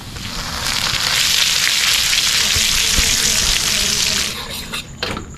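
Garlic and butter sizzling in a pan for honey butter chicken, a loud, steady hiss of frying that fades near the end with a few clinks, no talk over it.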